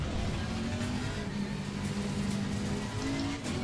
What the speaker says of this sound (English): God, I can hear that V12 from here.